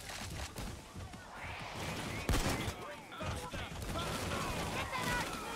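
Minigun fire from a Bulldozer enemy in Payday 2, rapid bursts of gunfire with mechanical clatter and a sharp crash in the middle, mixed with busy game noise and a voice talking over it.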